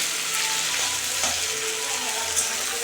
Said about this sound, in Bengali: ঘির সঙ্গে একসঙ্গে ভাজা করে নেব পেঁয়াজগুলোকে